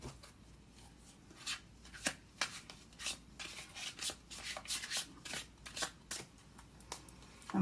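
Tarot cards are shuffled in repeated quick riffles and slides, a rhythmic series of soft papery bursts, close by with no talking.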